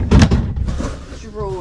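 An overhead cupboard door in a used caravan is opened with a quick wooden knock-and-thud, close by, followed by a person's voice.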